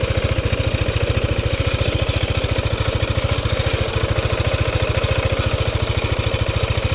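A 2013 KTM 690 Duke single-cylinder motorcycle engine runs steadily with a rapid, even low thumping pulse. It is loud and close throughout and plays alone, with no talking.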